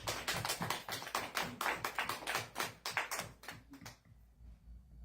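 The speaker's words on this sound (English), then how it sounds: "Could we give them a round of applause?" A small audience applauds, brisk rapid clapping at fairly low volume that continues for about four seconds and then stops abruptly.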